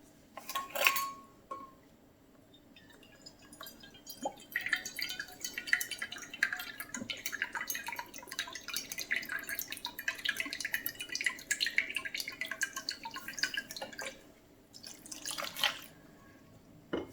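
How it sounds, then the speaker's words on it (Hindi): Vinegar, about half a cup, poured into roughly half a cup of fresh lemon juice in a kitchen, a steady liquid trickle with faint dripping and light clinks of utensils and dishes, fairly quiet and with no voices. "इसमें मैं तकरीबन हाफ कप विनेगर डालूंगी"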